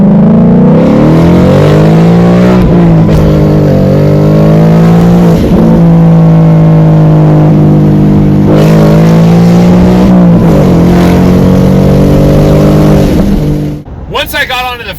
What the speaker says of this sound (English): That exhaust and that motor just sound amazing